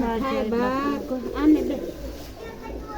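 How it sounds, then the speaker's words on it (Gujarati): Pigeons coo softly while being fed sev snacks outdoors, their low murmuring running under continuous close talk from a man. "આ છે કબૂતર."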